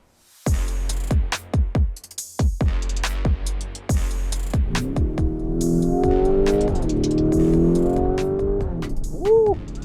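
A Lamborghini Urus Performante SUV makes loud, sharp engine blips and revs, then pulls away under hard acceleration with a rising, sustained roar and gear changes, heard close and alone.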